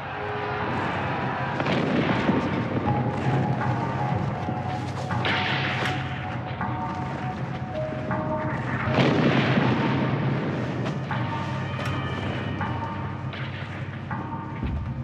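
Soviet Red Army artillery fire from a wartime documentary, with heavy booms and rumbling blasts overlapping continuously under a dense battle din, loud and sustained throughout.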